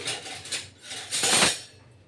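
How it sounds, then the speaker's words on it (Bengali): A metal ladle stirs rice batter for chitoi pitha in a pot, giving soft scraping clinks and a brighter burst of scraping toward the middle, close and alone. "এটা আমি কিছুক্ষণ ঘুটে নেব ঘুটে নেব বেশ সুন্দর করে হ্যাঁ হাতা দিয়ে"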